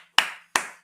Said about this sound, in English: So when I clap for myself,